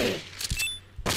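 Gunfire in the video game Dead Pixels: a few sharp, loud shots in quick succession, each a short punchy burst, with no talk.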